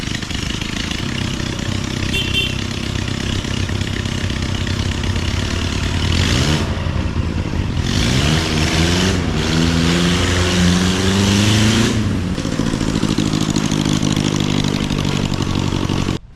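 A prewar Austin/Crosley single-seater race car engine runs loudly on its first drive, a close, raw idle punctuated by several sharp revs that climb and fall before settling back to a steady throb.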